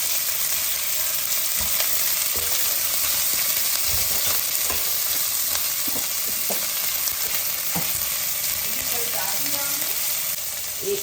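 Onions frying in oil in a pot for a mutton masala curry give off a steady, dense sizzle that lasts throughout, with occasional stirring clinks and scrapes close by.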